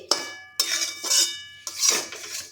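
A spoon clatters and scrapes against a metal pot while semolina and buttermilk are mixed, giving four distinct, close, clanking strokes separated by short pauses.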